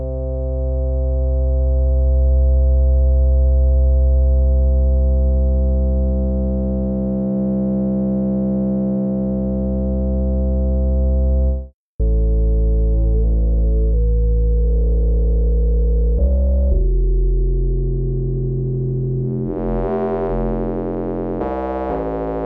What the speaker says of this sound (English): these are using sine wave oscillators instead of the harmony oscillator.